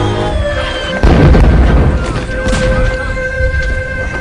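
Artillery shelling of a World War I trench in a film scene, a heavy boom bursting in after a second and rumbling on under a steady tonal hum, with lighter pops and crackles following.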